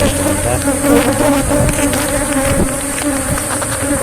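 Dense swarm of honeybees buzzing loudly and continuously at a hive in a beekeeping setting, a thick close drone with no voices.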